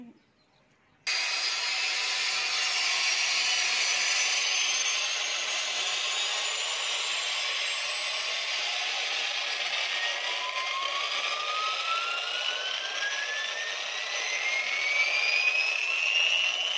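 A tiny toy helicopter's rotor spins up after a brief pause, then holds a steady, close, high-pitched whirring buzz with rising whine tones for the rest of the clip, with no talking.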